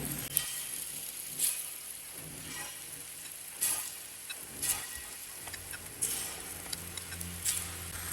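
Ragi sweet paniyaram batter cooks in a pan with a steady soft sizzle and occasional light pops and ticks, heard up close with no talking.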